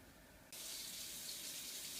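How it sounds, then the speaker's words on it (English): Water from a faucet begins pouring into rice, the steady splashing stream starting suddenly and continuing close by with no talking. "Okay, so I'm going to just add water to mine."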